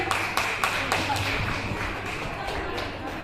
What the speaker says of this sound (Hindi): तो जोरदार ताली बजाइए शिवानी सिंह के लिए